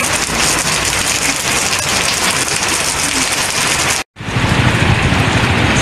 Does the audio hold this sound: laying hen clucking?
no